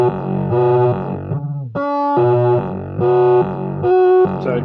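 An AE Modular synth runs through a grunge filter with hard distortion, giving loud, buzzy, harmonically dense notes in short stepped phrases, each note changing pitch abruptly with brief gaps between them.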